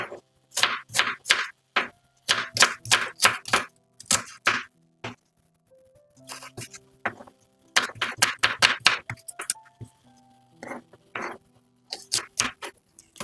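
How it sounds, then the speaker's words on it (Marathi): Onions being chopped quickly with a knife on a board, in close, sharp rhythmic bursts of rapid taps separated by short pauses, with no talking. "ह्याच प्रकारे सगळे आपल्याला कांदे हे चिरून घ्यायचे आहे"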